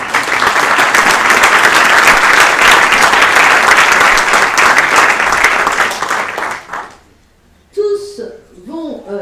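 Loud, dense applause from a large audience at a French round-table conference, thanking the backstage staff; it sustains for about seven seconds, then drops away as brief speech follows.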